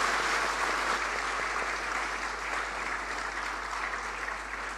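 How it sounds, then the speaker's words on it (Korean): A congregation at a Korean church ordination thanksgiving service in Saigon gives sustained, dense applause, a loud even roar of many clapping hands with no talk over it. "박수로 격려하겠습니다"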